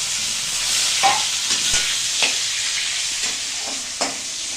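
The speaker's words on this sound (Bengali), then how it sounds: "সরষের তেল দিয়ে দিয়েছি, তেজপাতা, এই সামান্য একটুই তেল দেওয়া হয়েছে। এটা কি জিরে জিরে ফোড়নে দিলাম। ওই আলু দিয়ে দেওয়া হয়েছে।" Potatoes fry in mustard oil with cumin and bay leaf under a steady close sizzle, with several spoon-stirring clicks and scrapes scattered through it and no talk.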